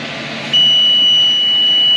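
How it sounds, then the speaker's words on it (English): A hay baler's cab monitor signals that the bale chamber is full, sounding a steady, continuous electronic beep tone that begins partway in and holds over the low rumble of the tractor engine. "It'll beep at me again to stop."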